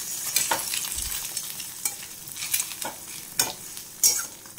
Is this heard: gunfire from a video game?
no